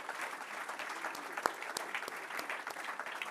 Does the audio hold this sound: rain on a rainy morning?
no